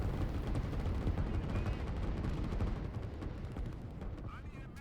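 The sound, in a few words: artillery fire in video game Line War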